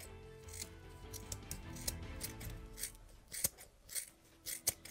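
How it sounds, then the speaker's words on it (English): Scissors snip through a small piece of hemp rope for miniature base flocking, a series of close, dry cuts and rubs that grow sharper and more distinct toward the end, with no talking. "First, I cut out a bit of hemp rope for my flocking."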